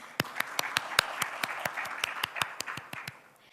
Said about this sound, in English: A huge round of applause for AAPI.